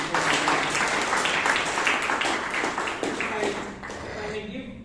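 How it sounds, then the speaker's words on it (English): An audience at a Bangalore Toastmasters club meeting claps steadily for a speaker, a dense patter of many hands that holds for several seconds and then thins toward the end. "So give him a big round of applause"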